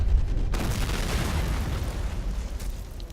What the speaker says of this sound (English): you will see what's the power of this artillery barrage